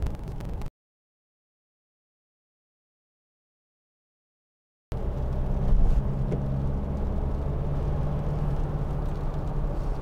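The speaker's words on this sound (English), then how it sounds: "that's what a Mitsubishi L200 is like in a traffic jam" A 2014 Mitsubishi L200 2.5 DI-D Trojan double cab pickup crawling through a traffic jam, with a steady low engine and road rumble after a brief opening burst and a few seconds of dead silence.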